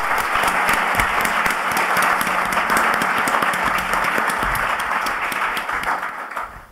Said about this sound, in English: Please give a round of applause to welcome him.